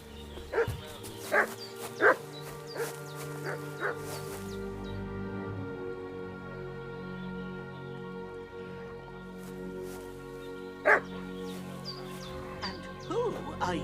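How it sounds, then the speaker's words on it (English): A dog barks and yips repeatedly in the video game Kingdom Come: Deliverance II, the sharp barks rising over a continuous layer of game music and ambience, with voices talking in between. "What's that dog making such a fuss about?"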